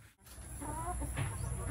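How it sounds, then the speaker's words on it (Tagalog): Chickens mating in a battery-type breeding cage give a faint cluck and short squawk over soft background hiss, brief and quiet, with no speech. "napakitaan ko kayo na isang clip na kumasta yung isa nating manok"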